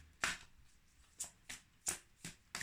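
Tarot cards being shuffled and drawn, six short crisp riffling bursts spaced about half a second apart, quiet and close.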